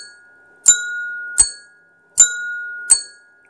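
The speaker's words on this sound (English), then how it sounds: "we've got two tones from the separate bells" Four sharp metallic telephone bell strikes at an even pace, driven by a relay converter with a 555 square-wave signal, two tones from separate bells, each ringing briefly, close by and otherwise silent.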